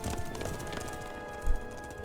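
Horse hooves clop steadily at a run in The Witcher 3, a continuous rhythmic patter with a heavier thump near the middle over a faint background drone.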